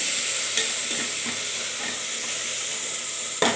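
Food sautés in a pan with rock salt while being stirred, a close, steady frying hiss broken by regular scraping strokes and a sharper clack near the end.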